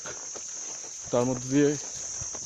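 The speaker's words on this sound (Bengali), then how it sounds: "একদম জঙ্গলের মধ্যে দিয়ে ঝিঝির ডাক" A continuous high, shrill chirring of crickets in a jungle fills the background while someone speaks briefly in the foreground.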